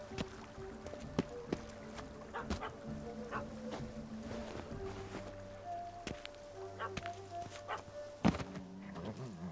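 A dog barks in scattered short bursts in The Witcher 3: Wild Hunt, Hearts of Stone, against a busy outdoor game ambience with hoof-like clopping and other faint clatter.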